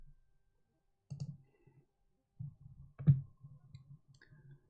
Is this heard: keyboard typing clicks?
yes